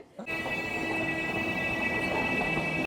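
A train rumbles steadily past at close range, a continuous loud roar with a high, sustained ringing tone running through it.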